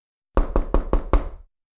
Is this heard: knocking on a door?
yes